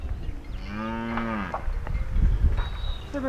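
A Murrah buffalo at a dairy farm gives a long, deep, drawn-out moo, then a second shorter call, loud and close over steady farmyard background noise.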